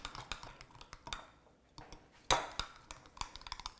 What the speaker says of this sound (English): I'm just going to get a fork, stir it up one more time.